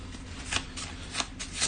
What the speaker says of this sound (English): Shuffling. Every day we're shuffling.